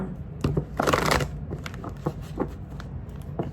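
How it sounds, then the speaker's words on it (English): Close, papery shuffling of a tarot deck with a brief burst of riffling, followed by softer taps and slides of the cards. "Do one more shuffle."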